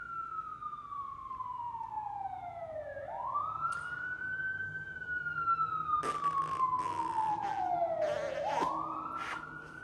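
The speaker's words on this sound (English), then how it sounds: "Let that siren go by." An emergency vehicle siren passes nearby, its wailing tone sweeping down and back up in slow cycles, fairly loud and steady, with a few brief knocks and clicks over low background rumble.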